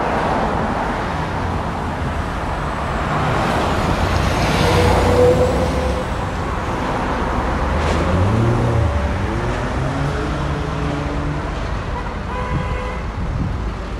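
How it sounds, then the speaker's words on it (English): Cars speed past on a busy city street, a steady loud roar of traffic with passing vehicles swelling and fading nearby. "these cars are flying, and this is not a forgiving street"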